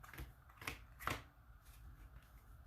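Pokémon trading cards being shuffled by hand, a few quick riffling bursts of card noise, close and fairly quiet, with no talking.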